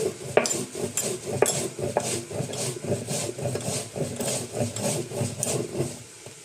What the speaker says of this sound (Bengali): আম আনারসটা সেদ্ধ হতে হতে আমি শিলপাটাতে ভাজা মশলাটা গুঁড়ো করে নিচ্ছি